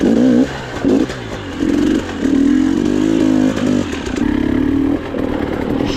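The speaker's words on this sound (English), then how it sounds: "Wow, these rocks are so slick. Bike just spins up instantly." A trail motorcycle on slick rocks on hard single-track, its engine surging in repeated loud revving bursts as the rear wheel spins up and clatters, close and continuous.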